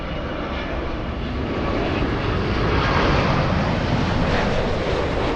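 A Lufthansa airliner at Los Angeles LAX gives a loud, steady jet-engine roar, a close broadband rush that builds slightly and holds with no voices over it.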